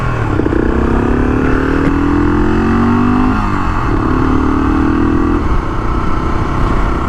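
Honda XL500 dual-sport motorcycle being ridden, its single-cylinder engine droning steadily up close with rising and falling pitch as it shifts and accelerates, loud throughout with no talk.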